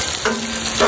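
Native chicken hits a hot pan with garlic and white onion, setting off a loud, steady sizzle close up with a brief stirring scrape.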